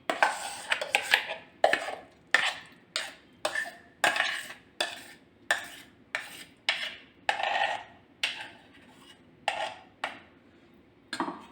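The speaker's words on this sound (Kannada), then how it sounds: "ಅವಲಕ್ಕಿ ರುಬ್ಬಿ ಆಗಿದೆ. ಹಾಕ್ತಾಯಿದ್ದೀನಿ ಪಾತ್ರೆಗೆ." Ground flattened-rice batter is scraped from a grinder jar into a vessel for ragi idli, with a steady series of about fifteen sharp spoon-on-metal scrapes and knocks in an even rhythm, close and fairly loud.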